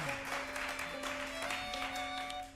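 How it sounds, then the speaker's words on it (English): An audience at a live old-time music radio show applauds a fiddler in a dense, steady wash of clapping, with a sustained instrument tone humming underneath throughout. "give her another round of applause"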